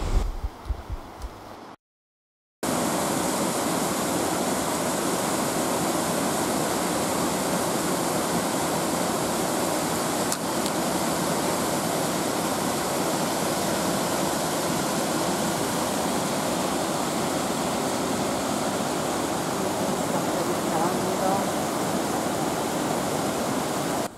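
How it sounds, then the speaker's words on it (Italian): The San Fele waterfalls roar as a dense, continuous rush of falling water, loud and close, after a brief moment of silence at the start. "Ed eccoci giunti alle cascate del Wattignire"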